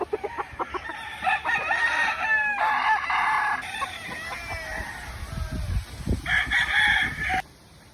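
A broodcock gamefowl rooster on a game farm crows several times, loud and close, with short clucks between the crows and a final long crow near the end.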